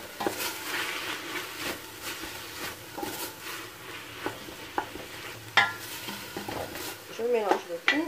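Chorba frik soup with coriander, celery, dried mint and pepper being stirred in a pot, spoon scraping and clinking at close range over a soft simmering sizzle, with sharper knocks near the end.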